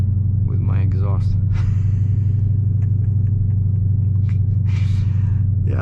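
Loud, steady exhaust rumble from a car with a loud aftermarket exhaust, cruising on a wildlife loop road through a state park, droning continuously throughout with someone talking over it.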